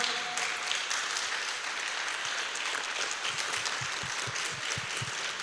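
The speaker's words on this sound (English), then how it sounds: "A round of applause, a round of applause" Applause at the official launch of a law school's pre-bar course, a steady dense patter of hands filling the room at even loudness throughout, with no talk over it.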